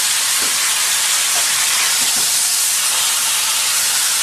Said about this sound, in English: you hear those pork chops just searing away over here